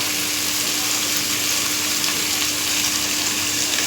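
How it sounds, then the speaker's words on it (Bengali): Onions fry in mustard oil with a dense, even sizzle and hiss heard up close. It continues unchanged for several seconds without speech. "পেঁয়াজগুলো ভাজা ভাজা হয়ে গেছে"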